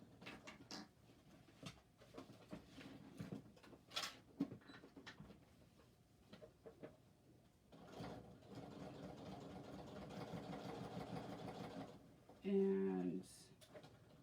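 A sewing machine stitches and backstitches through a cotton shoulder bag, running in short bursts early on and then in a longer steady run, with softer handling noise between the bursts.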